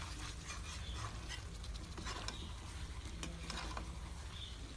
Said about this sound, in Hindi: हम इसे अच्छे तरीके से फ्राई कर लेंगे।